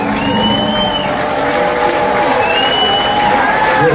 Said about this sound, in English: Give these two young gentlemen a round of applause for keeping the band together 50 years.